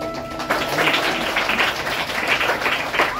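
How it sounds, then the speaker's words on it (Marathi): An audience at a school charity event claps to welcome guests, a short burst of dense, steady applause close by, with faint talk underneath. "त्यांचे आपण टाळ्या वाजवून स्वागत करूया."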